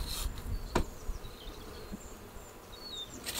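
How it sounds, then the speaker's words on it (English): Honeybees hum softly around a hive entrance outdoors during a spring inspection, with close wingbeats passing briefly amid a low, quiet insect drone and a few sharp handling knocks. "all the bees that were going into that hive will now fly back into that entrance"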